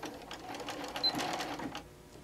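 A sewing machine stitches fabric in a quick, steady mechanical whir for about two seconds, close and fairly quiet, then stops.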